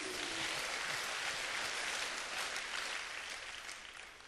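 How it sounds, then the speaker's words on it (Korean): A church congregation claps together during a prayer service, a dense steady wash of hand claps that holds evenly and tapers slightly toward the end, with no voices standing out. "한번 박수하세요."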